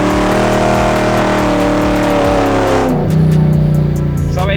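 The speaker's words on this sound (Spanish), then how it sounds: "Vamos a iniciar derrape con picadita de embrague" A car engine revs hard during a drift started with a clutch kick, a loud, sustained roar that climbs, then drops in pitch and steadies as the throttle changes, close and dominant throughout.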